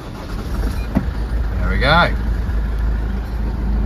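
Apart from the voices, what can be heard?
Toyota 2.2 D4D diesel engine starting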